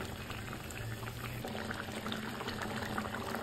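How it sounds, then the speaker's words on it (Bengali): Fish curry bubbling in a pan, a soft continuous simmer with small pops and liquid gurgles, close but fairly quiet, no voices over it. "এবার মাছ ঝোলটা ফুটে গেছে"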